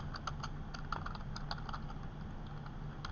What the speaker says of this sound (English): We're going to type in Mr. Cash